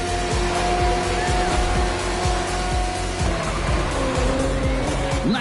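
Race cars in The Crew Motorfest roar through a lap with steady engine drone, gear-shift pitch steps and bursts of tire squeal and skidding, loud and continuous throughout.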